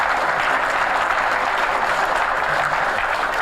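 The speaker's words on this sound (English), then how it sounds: "Let's give him a round of applause here." A round of applause at a breakfast gathering of an economic development commission, steady dense clapping from a sizable audience filling the room throughout.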